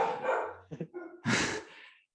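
An indoor dog barks in short bursts, about three sharp, close, fairly loud woofs with a brief yip between them, with no talking over them.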